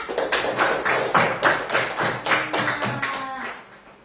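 A classroom of students applauds a classmate, a steady run of bright hand claps at moderate distance that fades out toward the end.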